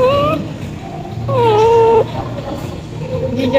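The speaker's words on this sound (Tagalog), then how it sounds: "May meow-meow dito sa ano, sa ilalim ng lamesa namin." A ginger cat under a dinner table makes drawn-out, wavering meows, loud and close, alongside other whimpering animal calls over a steady background hum.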